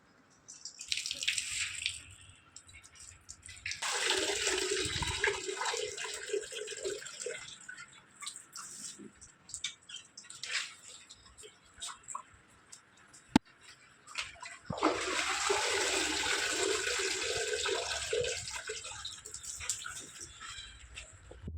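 Wheat grains washed by hand under running water, with two long bursts of splashing and pouring separated by quieter stretches of dripping and handling, close and fairly loud.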